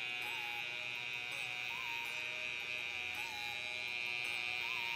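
An electric shaver hums in a steady, thin buzz throughout a men's fade haircut, even and unbroken at a moderate level with no talking.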